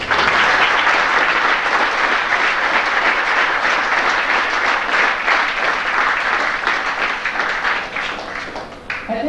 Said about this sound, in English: So please join me in a round of applause for all of them.